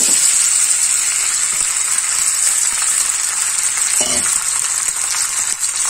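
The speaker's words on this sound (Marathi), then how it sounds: "हळद मिक्स झाली की लगेच हा जो भात आहे तो घालायचा याच्यात।" Rice tipped into sizzling ghee with turmeric, for sweet coconut rice: a loud, steady close-up frying hiss runs throughout with brief stirring scrapes and no talk.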